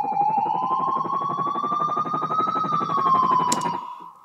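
Wailing emergency siren effect layered into a music track, a steady rising and falling tone held loud over the beat for about four seconds, ending with a brief glitchy burst.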